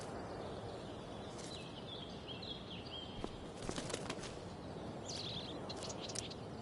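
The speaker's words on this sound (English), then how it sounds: "That bird is really pretty." In the Life is Strange: Before the Storm video game, a bird flaps its wings, faint flutters over a quiet ambient bed, with a few brighter bursts and chirps toward the middle and end.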